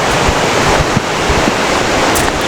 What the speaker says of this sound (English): Some nice rapids coming down here.